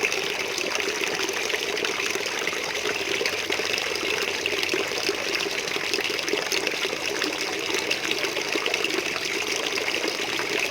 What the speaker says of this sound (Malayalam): ഇപ്പോൾ ഇവിടെ മറ്റേ ബെൻഡ് സൈഫൺ ഇവിടെ വർക്ക് ആയിക്കൊണ്ടിരിക്കട്ടോ